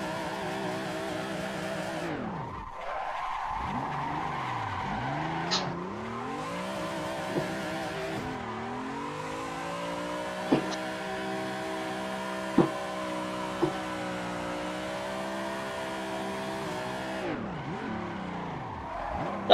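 A car drifts on track, engine droning steadily with rising and falling revs while tires squeal and skid, a few sharp clicks and pops breaking through the sustained roar.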